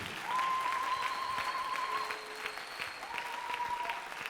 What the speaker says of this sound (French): Applaudis très bien pour le Seigneur des Seigneurs.